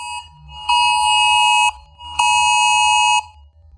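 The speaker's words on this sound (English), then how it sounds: "I get tornado and hurricane warnings on my phone" A phone emergency alert for tornado and hurricane warnings blares two long, loud, piercing tones of about one second each, separated by a short gap, with nothing else heard.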